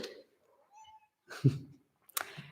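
A cat meows briefly a few times in a quiet room, the calls soft and close, with a short burst of human talk between them.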